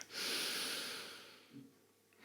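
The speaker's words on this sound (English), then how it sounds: "Take a big breath in." One long, breathy inhale taken while lying on a yoga mat after an exercise set, close and soft, followed by a brief exhale-like rustle.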